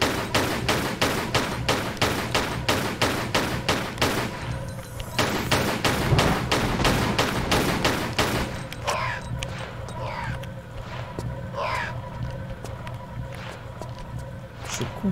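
Rapid gunfire from the video game Tomb Raider IV: a fast run of loud shots for about five seconds, followed by quieter game ambience with scattered effects.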